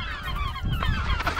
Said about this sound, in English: I apologize for all the seagull noise.